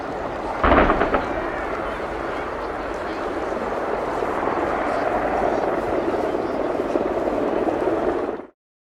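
A loud, steady roar of Attack Helicopter Display Team helicopters passing overhead at the Royal International Air Tattoo 2015 air show, rumbling continuously before cutting off abruptly at the end.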